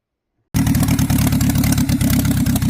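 A Ford Ranger's 7.3 IDI diesel engine, said to run poorly, starts up abruptly and runs loud and close, with a rough, rapid knocking clatter and uneven pulses that hold steady to the end.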